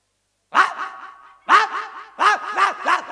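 A person imitates a dog with a series of short, yelping barks in three quick bursts, close up and loud against silence.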